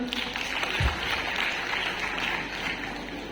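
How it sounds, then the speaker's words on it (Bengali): An audience at an indoor Modicare business event claps, a steady, dense wash of applause that carries evenly through the whole moment. "একটা জোরে হাততালি"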